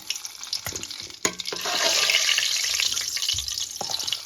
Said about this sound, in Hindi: इस तेल में पहले हम अभी फ्राई कर लेंगे ये प्याज